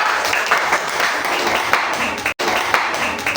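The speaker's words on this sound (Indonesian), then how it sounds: "tepuk tangan buat Nabila" A classroom group claps in a steady, dense patter for a few seconds after a student's presentation, with a brief break near the end before the clapping resumes.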